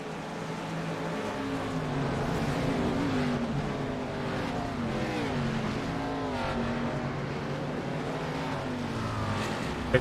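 Several race cars at Daytona International Speedway in iRacing, engines droning and rising in pitch as the pack rolls together, with a steady, continuous roar and no voices.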